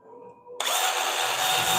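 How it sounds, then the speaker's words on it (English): A workshop dust collector at a woodturning lathe switches on with a sudden onset, then settles into a loud, steady whooshing roar that runs to the end. "Excuse me while I put on my dust collector here."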